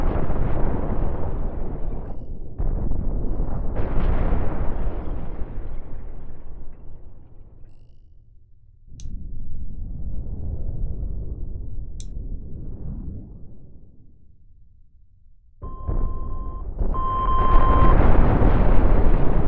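Mine explosions tear apart a ship in the space game Cosmoteer, heard as long rumbling blasts that rise and fade in waves, with brief gaps and a final heavy burst. There is no talk over them.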